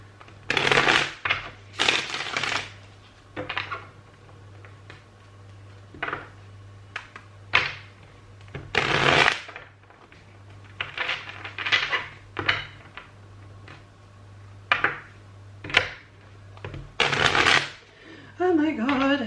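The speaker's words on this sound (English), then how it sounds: "I cannot shuffle the cards today" A deck of tarot cards is shuffled repeatedly in separate bursts of riffling and slapping, close and fairly loud, with a steady low hum underneath and a voice briefly at the end.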